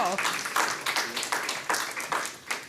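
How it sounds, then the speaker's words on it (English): Applause from a conference audience: a dense patter of many hands clapping that continues steadily, with a voice talking over it. "Round of applause for these people."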